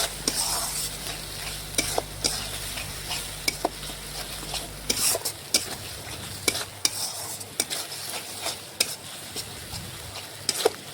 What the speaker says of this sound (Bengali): এ দেখুন ভালোভাবে মিশিয়ে মশলাটা একটু কষিয়ে নেব।